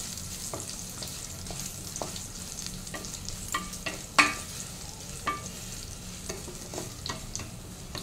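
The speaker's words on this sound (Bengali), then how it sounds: "এবার এটা ভালো মতো ফ্রাই করে নেব।" Potato pieces sizzle and crackle steadily in a hot pan, with occasional sharp scrapes and clicks from stirring.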